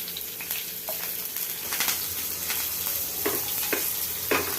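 Curry leaves and chopped chillies hit hot oil seasoned with asafoetida, giving a close, lively sizzle with crackling bursts and pops over a steady frying hiss, with no talking.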